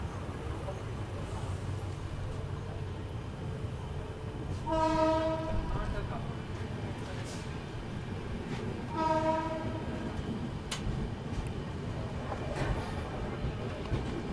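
The 12702 Hyderabad to Mumbai CSMT Hussain Sagar SF Express sounds two long, loud horn blasts a few seconds apart while departing, over steady rail rumble, with a person talking.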